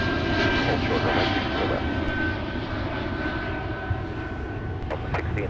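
Aircraft engines roaring at Minneapolis–Saint Paul airport near the runway, a loud sustained rumble that slowly eases, with radio voices talking over it.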